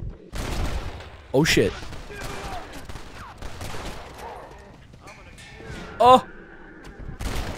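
Gunfire at zombies in the Undead Nightmare video game, with several loud volleys of shots and bursts against background game sounds, while a man exclaims over it.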